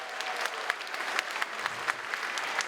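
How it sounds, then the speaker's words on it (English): Crowd applause at the 49th annual Civic & Community Awards as a teen arts honour recipient is called up, a fairly quiet, even patter of many hands with occasional louder individual claps standing out. "Ladies and gentlemen, round of applause for Ben"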